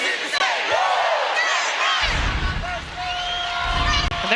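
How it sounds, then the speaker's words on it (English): A sellout basketball arena crowd roars and whoops before an LSU women's game at Mississippi State, loud overlapping shouts and cheers surging throughout, with a brief sustained tone near the end. "They draw a big crowd."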